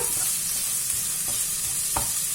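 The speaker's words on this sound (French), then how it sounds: "je continue de faire revenir tout ça jusqu'à ce que tout ce mélange s'imprègne du goût des olives" Olives and a mixed filling sautéing in a frying pan, a steady loud sizzle with a few soft stirring scrapes, close up and with no talking.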